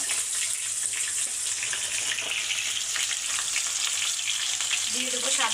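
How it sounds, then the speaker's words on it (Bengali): Ground spice paste and turmeric powder fry in hot oil for an egg and tomato dish, making a loud, continuous close-up sizzle with light stirring. "তো এখন দিয়ে দেবো বাটা মশলাগুলো। দিয়ে দেবো হলুদের গুঁড়া,"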